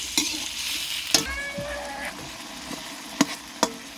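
Chicken sautés with garlic, onion and other aromatics in a hot pan, a close crackling sizzle broken by several sharp clanks and scrapes of a spatula stirring against the metal.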